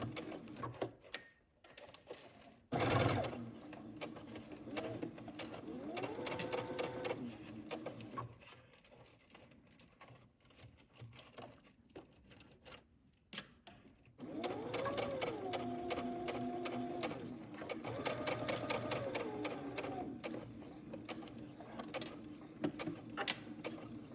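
Domestic sewing machine stitching a gathered skirt seam to a dress bodice, running in several bursts with pauses between, the motor hum and rapid needle chatter close and moderately loud, quiet handling noises in the gaps.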